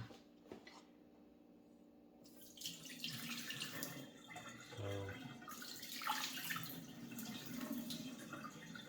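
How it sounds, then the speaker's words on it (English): Water splashes and pours from a container of russet potatoes in bursts, close by, with a few clunks and light handling sounds between pours. "pour out the water."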